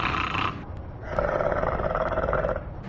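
A person imitates a snore with their voice, producing a rough, raspy, drawn-out breath of about two seconds after a short lead-in, close and fairly loud with no other talk.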